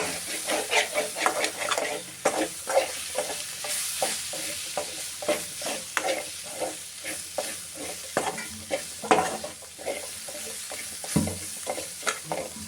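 Masala powders being stirred as they fry in a pan, before dried shredded beef goes in for a Kerala beef thoran, rapid rhythmic scraping strokes over a continuous close sizzle and hiss.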